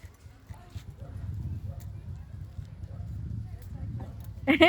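A horse's hooves clop in a loose rhythm against a low rumbling background in an old town, with people talking nearby and a brief sharper sound at the end.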